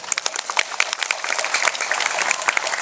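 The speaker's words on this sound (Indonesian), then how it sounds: "Tepuk tangan dulu nih." An audience at a Hindu religious discourse in Bali claps together, with sharp individual claps standing out from a lively, fairly close round of applause lasting a few seconds.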